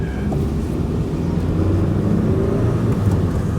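A £300 Proton Satria's engine runs steadily as it is driven for the first time, a rough, continuous low drone with road noise and no voices.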